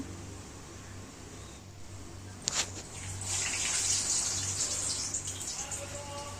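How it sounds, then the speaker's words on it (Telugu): Vadas go into hot oil in a home kitchen, starting with a sharp splash and then a rising, steady bubbling sizzle that carries on over a low background hum. "ఇదిగోండి వడలు వేస్తున్నాను"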